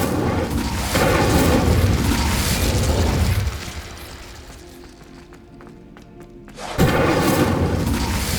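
Incendio fire spell cast in the video game Hogwarts Legacy, a loud booming blast and roar that dies down into a quieter stretch, then a second heavy burst cuts in near the end.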